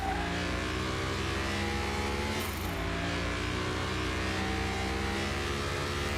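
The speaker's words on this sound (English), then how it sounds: "when you're driving in this game, the engine noises are like super loud." A simulated Jaguar engine drones loudly and continuously while driving in Car Mechanic Simulator 2021, holding a steady pitch with a brief shift midway.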